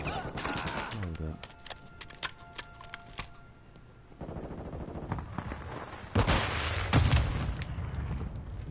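Enemy gunfire in a video game, rapid machine-gun bursts and single cracks at varying distance, with a loud close volley near the end and speech heard in between.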